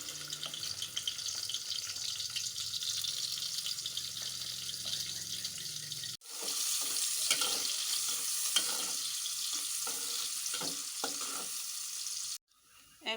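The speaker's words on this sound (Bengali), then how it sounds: "এখন পেঁয়াজগুলো দিয়ে দেব।" Onions fry in a paste of ground chili and turmeric, a continuous loud sizzle with scraping stirs; the sound briefly cuts out midway, then resumes stronger before a short drop near the end.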